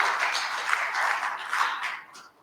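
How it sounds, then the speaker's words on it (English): Audience applause for a speaker at a conference talk, a steady wash of clapping from a crowd that holds for about two seconds and then fades out. "Can we have a round of applause for John quickly?"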